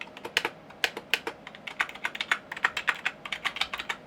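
Typing on a pink Micro Digitally Yours keyboard, a steady run of close, crisp key clicks at a quick, slightly uneven rhythm, with no voices.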